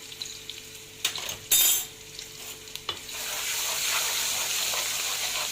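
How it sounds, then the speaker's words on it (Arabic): Diced onion seasoned with salt and black pepper softening in a pan, a few clinks of a utensil against the pan giving way to a steady soft sizzle. "هنشوحها شويح، مش هنحمرها، ندبلها كده"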